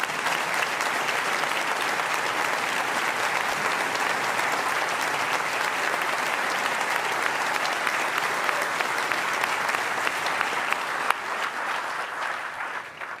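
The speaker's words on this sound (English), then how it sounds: "you all a round of applause" Sustained applause from a large audience at the JFK Profile in Courage Award ceremony, greeting the families of elected officials and honorees as they stand. Dense, loud clapping holds steady for over ten seconds before easing slightly.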